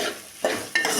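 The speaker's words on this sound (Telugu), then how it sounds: "బౌల్ పెట్టుకొని నూనె పోసుకొని అది వేడెక్కినాక ఆనియన్స్ వేసుకోవాలి" Onions fry in hot oil in a bowl on low heat, with a steady sizzle broken by two sharp scraping stirs close to the mic.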